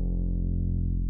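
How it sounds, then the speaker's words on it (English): Deep double-chain Moog-style bass patch from Omnisphere, a dark sustained low tone held steadily and loud, thick with low harmonics, alone with no voices. "It's a deep double chain Moog in Omnisphere."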